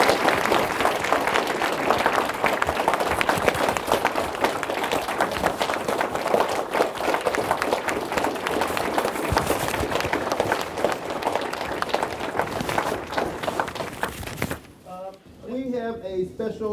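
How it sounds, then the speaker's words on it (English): Sustained applause from an audience at Calhoun Community College, dense clapping filling the room for about fifteen seconds before cutting off as a voice begins speaking. "Let's give ourselves one more round of applause here at Calhoun Community College"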